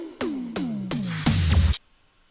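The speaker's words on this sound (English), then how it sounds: "for the pre-drop fills, we have a tom fill and two snare fills" A progressive house pre-drop fill: three descending tom hits in even succession, then a fast snare roll that closes the fill, loud and up front with no talking.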